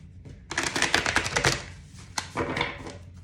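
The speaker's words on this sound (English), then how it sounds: "I think one more shuffle will do it here" Tarot cards shuffled by hand, a quick run of dense, crisp riffling flicks followed by a brief pause and a second, shorter burst of shuffling, close and clear with no talking.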